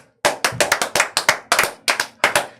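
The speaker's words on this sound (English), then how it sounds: "let's clap our hand" One person claps hands close up during a podcast, a series of about fifteen crisp, loud slaps in an uneven rhythm, with short gaps between clusters and no other sound.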